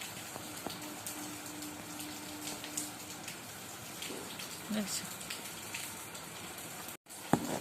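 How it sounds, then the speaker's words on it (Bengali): Light rain falls under a cloudy sky, a soft, faint, steady patter with occasional drips and no talking. "এখন দেখছি একদম বৃষ্টি পড়েই যাচ্ছে"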